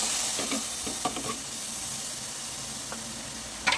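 Yogurt batter poured onto roasted semolina in a hot pan bursts into a loud, steady hissing sizzle, with a few soft stirring knocks early and a short clatter at the end.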